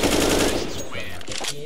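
Automatic gunfire sprays in a rapid loud burst in a video game, rattling at first and then tailing off as a voice briefly cuts in over the end.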